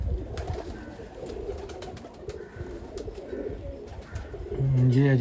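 Breeder pigeons cooing in a loft, soft throaty coos repeating under a voice talking nearby, with a louder, closer coo near the end.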